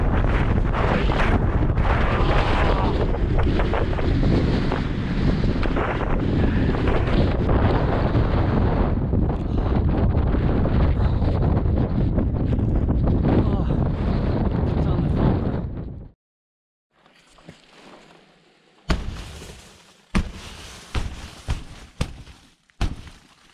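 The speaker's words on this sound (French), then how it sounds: "Le vent dépassant désormais les bons 80 à l'heure" Roaring wind above 80 km/h on a mountain ridge in Spain buffets the microphone loudly and continuously, then cuts out abruptly, followed by quieter gusts and scattered thumps.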